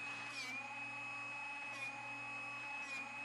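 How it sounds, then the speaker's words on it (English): A Drill Doctor 350X drill bit sharpener runs steadily with a whining motor tone and a constant mechanical hum, faint and unbroken for a few seconds with no voices. "listen carefully to the sound your Drill Doctor makes"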